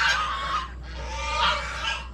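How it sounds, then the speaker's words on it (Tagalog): Several geese honk loudly and close by in overlapping bursts over a low steady hum. "May gansa nila guys."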